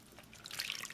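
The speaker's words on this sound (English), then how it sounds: "So I'm just going to rinse them back and forth a little bit just to get any residues off" Bing cherries being rinsed in sink water, a soft wet swishing and trickling that builds toward the end of the short moment, fairly faint and close with no voices.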